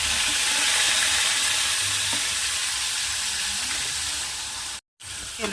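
Raw ground masala paste of onion and spices hits hot oil with cumin in a kadhai, a loud, steady crackling sizzle that holds for several seconds, then cuts out briefly before resuming.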